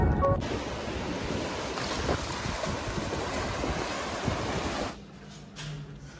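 Sea waves wash onto the shore on a rainy day as a steady, loud, broadband roar of surf, which drops abruptly to a much quieter wash in the last second or so.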